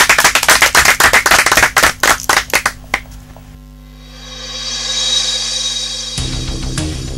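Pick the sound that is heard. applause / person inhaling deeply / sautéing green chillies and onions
applause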